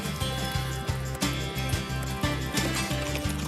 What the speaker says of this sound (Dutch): Met een echt falabella-paardje.